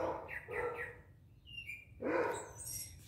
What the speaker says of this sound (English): The doggy is unhappy. What's with the Barky?